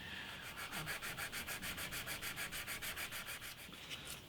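An antique parlour guitar's bridge is hand sanded with 600-grit sandpaper in quick, even back-and-forth strokes, about five per second, soft and close with no voices.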